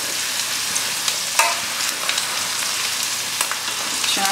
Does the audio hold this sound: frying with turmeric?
yes